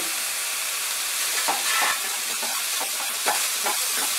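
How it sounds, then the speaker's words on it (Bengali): Egg masala fries steadily in a pan over a medium flame, a close, continuous sizzle with a few scraping stirs near the middle and the end. "আমি ফ্রাই করে নেব জাস্ট 2 মিনিট, ফ্লেমটাকে মাঝারি রেখে"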